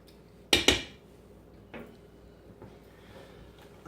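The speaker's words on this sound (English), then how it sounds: "I'm gonna give this just a little bit of a stir." Southwestern soup stirred in a crock pot: two sharp clanks of a spoon against the pot in quick succession, followed by a few faint scrapes and taps in a quiet room.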